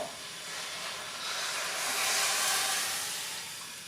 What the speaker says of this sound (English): That's sizzling quite nicely.